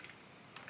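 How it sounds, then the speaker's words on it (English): Quick typing on a computer keyboard, a few faint, close key clicks in a short burst with no talk. "I'm typing in the dojo key"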